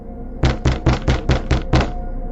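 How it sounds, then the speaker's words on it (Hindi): Seven firm knocks on a door in a tense late-night horror tale, evenly spaced and loud, each a hollow thud close by, followed by quiet. "अचानक उसके दरवाजे पर दस्तक हुई"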